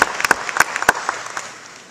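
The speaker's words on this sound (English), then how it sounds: "give them a round of applause" A small audience claps briefly after a talk. The scattered, uneven claps are loudest at first, then thin out and fade within a couple of seconds.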